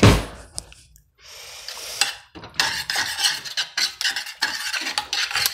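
A spoon stirs coconut bread mixture in a bowl, giving uneven scraping and clinking bursts against the dish after a few brief knocks and a short pause, close and fairly loud.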